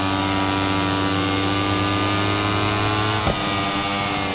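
Moto3 racing motorcycle engine held in sixth gear in MotoGP 21, a steady, loud high-revving drone with a constant pitch, briefly broken by a short blip near the end.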